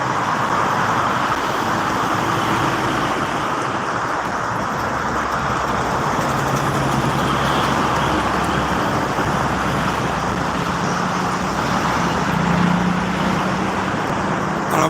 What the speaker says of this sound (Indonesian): Ramai truk